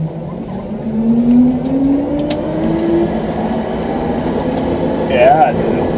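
A race car engine fires up after the starter and ignition are switched on, then revs with a slowly rising drone under people talking nearby.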